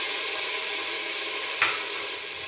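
Tomato and grated ginger sauté in a hot pan, a steady broadband sizzle with a brief stirring scrape partway through, close and continuous with no talking.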